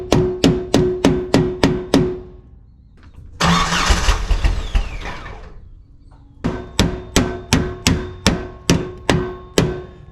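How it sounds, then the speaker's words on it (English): Someone bangs on the fuel tank of a 1997 Jeep Wrangler with a failing fuel pump, seven sharp metallic strikes in steady rhythm. An engine churns briefly, then another run of evenly spaced loud hits follows. "I'm gonna leave the key on and whoop on this fuel tank"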